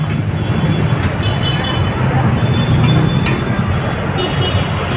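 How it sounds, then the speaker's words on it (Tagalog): Rush hour traffic in Divisoria: a constant roar of cars, buses and trucks idling and crawling, with a low engine drone underneath and brief horn toots cutting through now and then. "build up na yung traffic dito."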